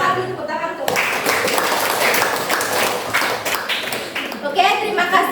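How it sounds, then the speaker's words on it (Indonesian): A class at SMAN 2 Busungbiu high school claps after a group presentation, a dense, steady round of applause lasting several seconds with voices mixed in. "Silakan ditepuk tangan tuh."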